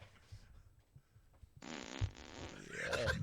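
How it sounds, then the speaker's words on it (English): A fart sound effect played by an Alexa smart speaker skill, a rising drawn-out blast that follows a quiet stretch with faint talk. "I want to hear you fart. Here's fart."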